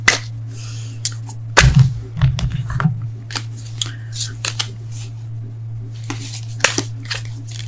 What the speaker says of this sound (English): I can't shuffle either